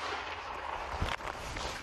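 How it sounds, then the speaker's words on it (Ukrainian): A single mortar round fired at a front-line position near Bakhmut, a short muffled boom about a second in, standing out against steady outdoor background noise. "Постріл!"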